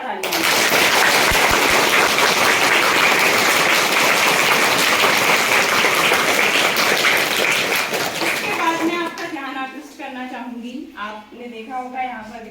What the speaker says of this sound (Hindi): तो एक बार मैं चाहती हूँ कि जोरदार तालियां।